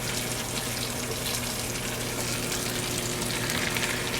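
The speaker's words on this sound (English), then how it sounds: "So when you sear the cheeks, you want to make sure that the pan is not too overcrowded" Beef cheeks sear in a single layer in a hot pan, giving a steady, dense sizzle that runs on without pause, close and fairly loud, with no talking.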